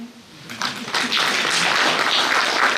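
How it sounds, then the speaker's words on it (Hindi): Audience of doctors clapping at a talk, applause swelling from scattered claps into steady, moderately loud clapping that continues to the end. "तो अपने लिए ताली बजाइए"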